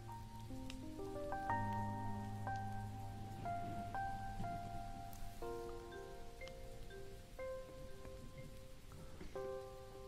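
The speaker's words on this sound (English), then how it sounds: "It's raining" Rain during a Fortnite live event falls as a soft, steady patter, faint and mixed under a gentle melodic music score.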